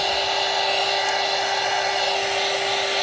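A hair dryer blows steadily at close range over acrylic ink on a gelli plate print, a constant whirring hiss with a steady motor hum that holds even throughout, with no talking.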